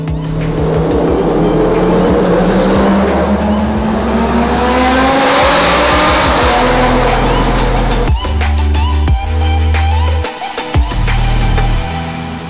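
An Audi R8 supercar with new wheels and wrap drives hard, its engine roaring loud and close as revs climb and shift, with tire squeal and gear changes, and no talking.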